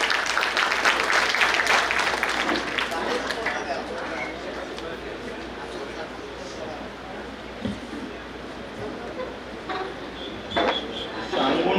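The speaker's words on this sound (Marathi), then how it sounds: "जोरदार टाळ्या झाल्या पाहिजे सरांसाठी." An audience at a public speaking event in Amravati applauds for the speaker, Bharat Patankar. Dense clapping rises loudly at the start, then thins into a steady, softer patter with voices mixed in, and flares up briefly near the end.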